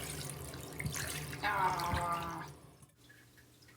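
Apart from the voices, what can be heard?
rinsing a '98 Furby toy under cold water in a sink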